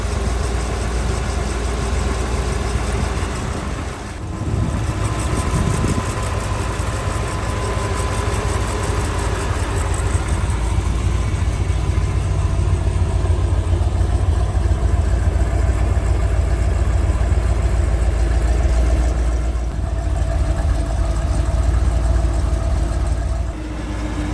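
A 1972 Chevrolet Corvette LT-1 V8 with fuel injection idles steadily and loudly nearby, a constant low rumble with a brief dip near the start and another late in the clip.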